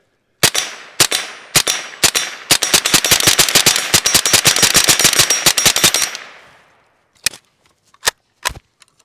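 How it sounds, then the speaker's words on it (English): An AK47-style .22 trainer rifle fires Remington ammunition outdoors in a long rapid string of sharp cracks. It then pauses and ends with a few spaced single shots. "we have loaded some Remington ammo in here that we want to shoot this thing and see how it performs"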